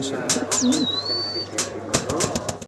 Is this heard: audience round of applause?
no